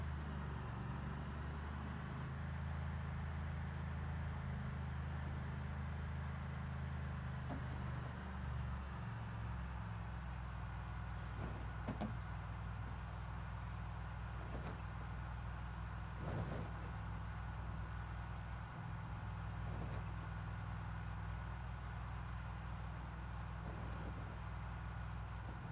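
A car in the game Cataclysm DDA, running with its muffler removed, gives a steady low engine drone throughout, with a few faint clicks and ticks over the continuous rumble.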